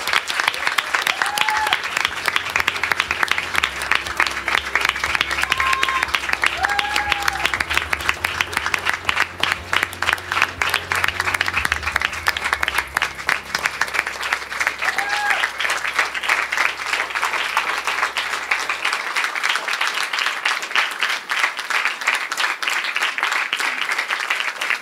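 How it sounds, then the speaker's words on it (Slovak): A gathered audience at a Slovak service-commissioning ceremony gives a long, loud round of applause, dense continuous clapping that carries on for nearly half a minute over a low hum that drops out near the end. "Dajme jeden obrovský potlesk"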